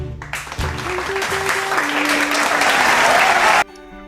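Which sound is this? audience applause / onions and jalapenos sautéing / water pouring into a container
audience applause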